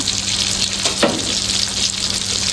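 Eggplant pieces fry in hot oil for terong balado, giving a steady close sizzle with a brief stirring scrape partway through.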